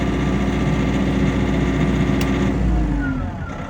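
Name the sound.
portable generator engine running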